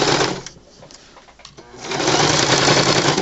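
A sewing machine runs a straight stitch around the edge of fabric for a toy train, a loud steady whirring hum that briefly slows and dips before picking back up.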